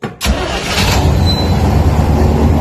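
A small boat's first electric motor starts up after a brief quiet moment, then runs steadily with a loud, continuous hum close by.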